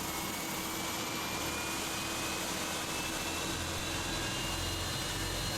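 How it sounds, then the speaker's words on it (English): A simulated Fenix A320 jet engine spools up, a dense continuous roar with a thin whine slowly climbing in pitch and a low rumble building toward the end, steady and loud with no talking. "I really do think Phoenix has done an outstanding job with the sound quality of these engines"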